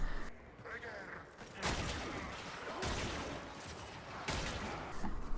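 Vectis Prime sniper rifle shots in the video game Warframe, three heavy booming reports spaced about a second apart, each with a sharp crack and rolling tail, over quieter game ambience.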